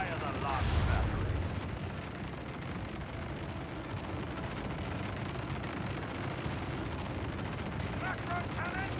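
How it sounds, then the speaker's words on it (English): Macro cannons fire a volley in the Warhammer 40k: Rogue Trader video game, a heavy booming blast up front followed by a dense, rumbling roar of bombardment that continues steadily throughout. "Fire the last battery."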